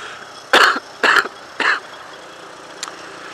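Three sharp coughs in quick succession, fairly close, followed by a faint short catch of breath after a pause.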